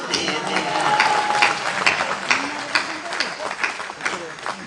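Audience applause at a live poetry performance at Soorsadan, Agra: a dense, steady wash of clapping from a crowd, with a voice speaking over it.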